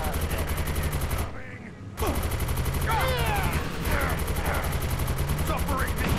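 Rapid bursts of video game gunfire against mobs ring out almost continuously and close up, with a brief lull before resuming, while people talk over the shooting.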